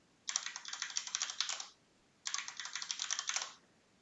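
Two quick bursts of close, crisp keystrokes on a computer keyboard while a password is entered during a server setup, separated by a short pause, with no voices.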